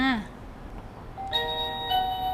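A short electronic chime rings from the small speaker unit of a Xiaomi Smart Doorbell 3, a few bright tones after a brief opening beep, fairly close and clear.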